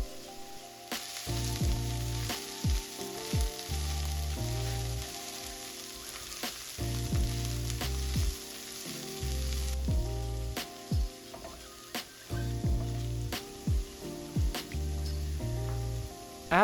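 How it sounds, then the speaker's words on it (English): Tomato sauce sizzling in a pan as tomato paste goes in: a steady, fairly loud frying hiss and crackle running beneath rhythmic background music. "Next, we're going to add some tomato paste, which will combine everything and thicken up our sauce a good bit later on."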